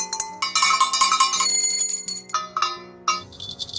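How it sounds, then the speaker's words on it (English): A handbell is rung repeatedly in bright, metallic strikes with ringing overtones, loud and close, in irregular bursts that decay between rings, with no talking. "I ring the bell."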